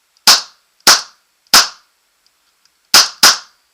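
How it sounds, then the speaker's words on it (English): Tiberius Arms T8.1 paintball marker fired five times, sharp loud cracks in an uneven rhythm, three evenly spaced shots followed by a quick pair after a short pause, no voices. "make sure it's tight, and we shall fire a few rounds."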